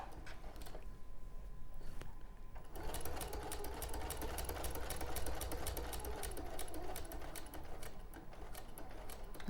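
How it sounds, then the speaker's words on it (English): Domestic sewing machine stitching a garment seam, a steady rapid mechanical whirr that starts after a brief quiet pause and runs continuously at close range, with no talking. "Just keep checking as you're sewing that seam allowance is pushed over to the side that you're stitching on."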